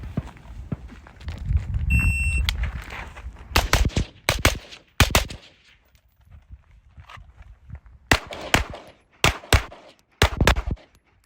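Rifle shots fired during a timed shooting drill with a Holosun SCRS micro optic, a string of sharp, loud cracks in irregular bursts with short gaps, close and alone without talk.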